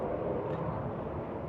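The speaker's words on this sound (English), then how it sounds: "It's a big jet going in. That looks like a Southwest" A big Southwest jet airliner coming in over Davis Dam and Lake Mohave makes a broad, steady roar that stays loud and even throughout the short moment.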